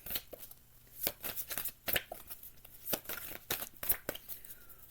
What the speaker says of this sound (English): We're going to shuffle these cards